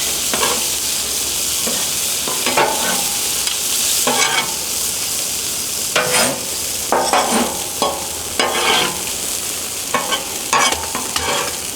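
Beef lo mein ingredients with cashews and peppers being tossed and mixed on a hot Blackstone griddle, constant loud sizzle with repeated metal spatula scrapes and clacks, close up, no voices.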